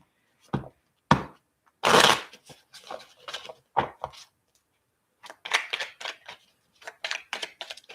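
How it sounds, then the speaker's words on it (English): Tarot cards being shuffled produce a series of quick riffling bursts and soft slaps, close and crisp, with a loud rush partway through and a flurry of lighter riffles near the end. "Whoa, that was a crazy shuffle."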